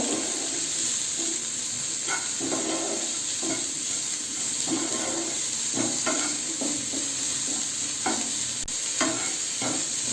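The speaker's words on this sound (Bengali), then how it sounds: "ভালো করে মিশিয়ে নেব" A spoon stirs salt into a pot of chicken soup with soft, irregular scraping taps over a steady hiss and gentle simmering, close and quiet, with no talking.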